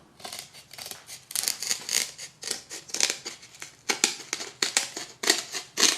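Rapid, repeated snipping and cutting strokes trimming excess cured material along the edge of a handmade oar, close and crisp in an irregular rhythm with no talking.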